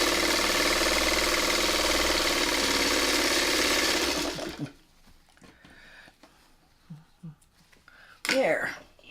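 A sewing machine stitching a quilt pattern runs in a loud, steady, rapid mechanical whir for about four seconds, then stops, leaving near quiet with a few faint handling sounds and a brief louder rustle near the end.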